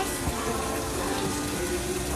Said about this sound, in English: Turn that water off if y'all done playing with it